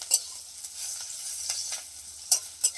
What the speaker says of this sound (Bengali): এবার আমি শাকটাকে ভেজে নেবো